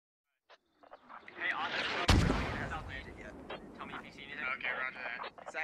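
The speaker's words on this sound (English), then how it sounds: "And now British mortars coming in." Incoming British mortar fire in the military shooter Squad: after a few quiet clicks, one loud, close blast hits and trails off into a rumbling roar. Distant pops follow while someone talks over it.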